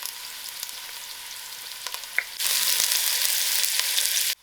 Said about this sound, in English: Now I'm going to add my onions to the oil. I'll allow these onions to fry till it's soft.